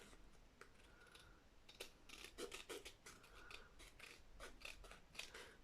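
Scissors snip through paper for a scrapbook hidden-pocket page, trimming a strip close to a photo; a run of crisp, closely spaced cuts and rasps, fairly quiet and near, with no voices.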